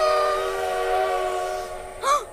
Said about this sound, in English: It's the train!